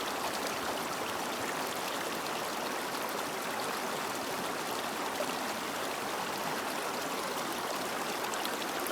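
A mountain stream on the Appalachian Trail in Georgia rushes steadily and close, a dense unbroken hiss and burble of flowing water as a bottle is filled.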